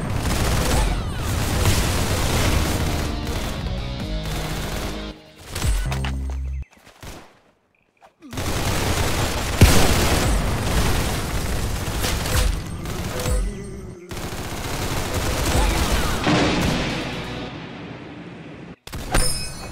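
Arsenal, the Roblox shooter, fills the stretch with dense, rapid gunfire bursts and booms, broken by a few short gaps of near silence before the shooting resumes, loud and continuous.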